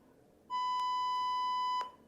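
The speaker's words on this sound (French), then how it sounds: "Je fais un bip" A censor bleep: one steady, clean electronic tone lasting just over a second, loud against near silence, with a faint click at the start and end.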